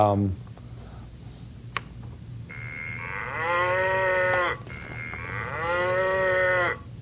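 A voice imitates a cow mooing: two long, sustained, loud moos in a row, each drawn out for over a second, with faint background noise in between.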